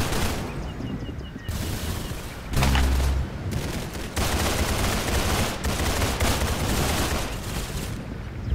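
Rapid gunfire bursts from a Roblox shooter game, dense and loud, with volleys of shots that swell and pause across the clip and no talking over them.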